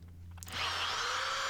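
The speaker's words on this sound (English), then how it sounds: "I start by drilling pilot holes to either side of the lower wedge anchors." A power drill spins up and bores pilot holes beside lower wedge anchors along a basement wall, a sharp whirring whine starting after a brief pause and holding steady and loud.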